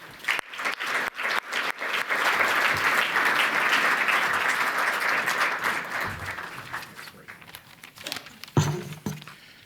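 Sustained crowd applause fills a large gala awards room as a speaker is welcomed to the stage, starting with scattered claps, swelling to steady dense clapping, then tapering off near the end.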